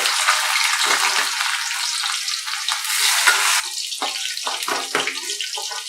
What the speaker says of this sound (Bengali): কাঁচকলাটাও ভাজা হয়ে গেছে